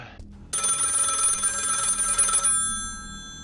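A telephone in a horror video game rings with a bright, sustained electronic trill after a short gap, then cuts off and fades with a lingering tail.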